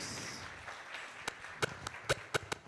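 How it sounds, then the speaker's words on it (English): Scattered handclaps ring out sharply, about seven distinct claps in the second half, above a low room murmur as the audience applauds award runners-up at the Kenya 2022 National Project Management Excellence Award ceremony. "Let's clap for them"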